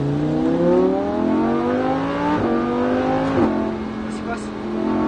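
A sports car, either a Ferrari F8 Tributo or a Lamborghini Huracan, accelerates out of a corner on a race track. The engine note climbs steadily and loud, with a couple of quick shifts, and an instructor speaks over it.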